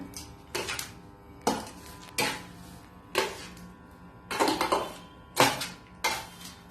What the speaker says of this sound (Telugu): ఈ రసం కూడా ఇందులో పోసుకొని కలుపుకోవాలి